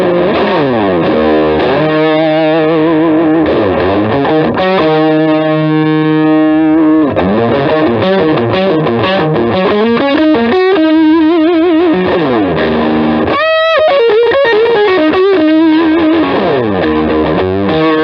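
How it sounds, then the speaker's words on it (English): An electric guitar runs through a JHS PG14 pedal with the distortion turned all the way up, playing loud saturated chords, sliding notes and sustained fuzzy tones without pause. "So like we'll turn the distortion all the way up"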